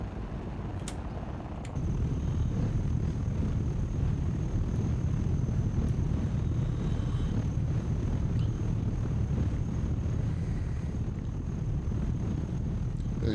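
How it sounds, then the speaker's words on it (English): Wind roars through the open canopy of a Dune ornithopter in a flight sim video game, with a sudden rise into a loud, steady rushing drone and low rumble after a quieter start, and no voices over it. "Our pilot's getting quite the face full of wind right now."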